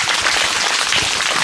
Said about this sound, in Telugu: చప్పట్లు కొడదాం భూషయ్య సార్కి.